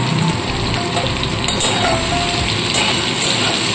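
Boiled soya chunks fry in hot oil with a little salt, turmeric and chili powder, giving a loud, continuous sizzle with occasional scraping and stirring sounds and no speech.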